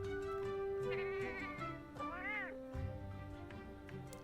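A cat in Final Fantasy 14 gives a couple of drawn-out meows over a quiet in-game music bed.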